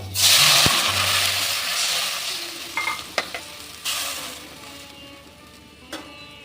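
Radish sizzles loudly in a pan, then water is poured in, the hot crackle surging before easing into a softer hiss, with a few clinks of a spoon or lid against the pan near the end.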